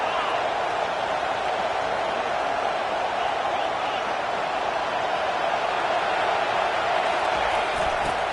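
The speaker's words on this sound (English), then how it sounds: "This crowd trying to make life miserable for this offense." Stadium crowd noise from a college football video game, a constant roaring wash of fans held at an even level throughout.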